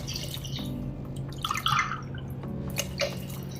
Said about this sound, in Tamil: அதே கிளாஸ் அளவுல தண்ணி இப்போ நம்ம சேர்க்க போறோம்